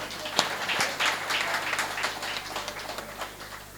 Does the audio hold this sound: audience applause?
yes